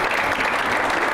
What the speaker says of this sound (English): So it is time to clap a little louder, to get up off your seats.